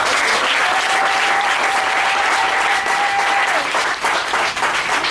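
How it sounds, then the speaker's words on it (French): A church congregation bursts into sustained, loud applause acclaiming the Lord, a dense crowd clapping throughout, with a faint sustained tone beneath. "Est-ce qu'on peut acclamer le Seigneur?"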